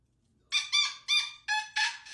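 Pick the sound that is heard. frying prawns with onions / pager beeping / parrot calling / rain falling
parrot calling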